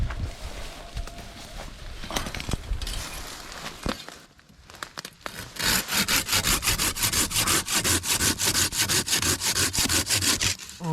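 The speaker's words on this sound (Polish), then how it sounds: "pokażę jak coś takiego się wycina tą piłą" A Wolf Garten Power Cut Saw Pro 370 hand saw cuts through a pine sprout in a garden plot, first with slower strokes, then after a pause a fast, steady rhythmic back-and-forth rasp, close and loud, with no talking.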